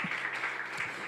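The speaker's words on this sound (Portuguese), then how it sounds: "Aplauda o Senhor bem forte." A church congregation applauding together during worship, a dense, steady wash of clapping heard up close and filling the whole short moment without pause.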